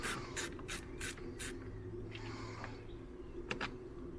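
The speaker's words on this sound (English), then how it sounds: "So we just take this screw out here." Screw being removed from the steering column cowling of a Peugeot 107: a quick series of short, sharp scraping strokes, then a brief low whirring turn and a couple of faint clicks, quiet and close.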